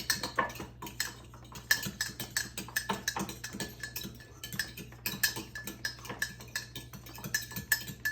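Carrot cake batter being mixed in a bowl, a brisk run of clinks and scrapes from a utensil against the bowl, irregular and close, with a low steady hum underneath.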